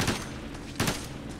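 A burst of rapid gunfire in the video game Ghost Recon Advanced Warfighter 2, two quick volleys of shots close together, loud and alone over a short stretch.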